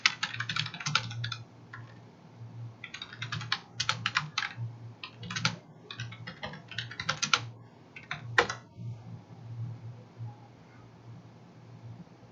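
Commands are typed on a computer keyboard during network switch configuration, with close, quiet clattering bursts of keystrokes and short pauses between them. A few heavier key hits stand out, then the typing tapers off into quiet room tone.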